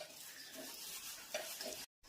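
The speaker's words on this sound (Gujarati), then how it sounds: "હા અને ભૂંગળી કેવી મસ્ત તળાય" Bhungli snacks frying in hot oil, giving a dense, steady sizzle with stirring scrapes throughout, close by and loud, cutting out briefly near the end.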